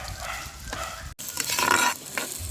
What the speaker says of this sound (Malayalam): സവാള നന്നായിട്ടൊന്ന് വഴറ്റിയിട്ട്, സവാള നന്നായിട്ട് ഒന്ന് വാടി വരണം.